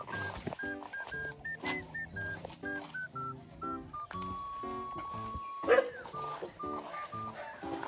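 A dog barks in short, sharp bursts at close range, the yaps coming in an uneven string with brief gaps and one louder burst near the end, with no talk over it.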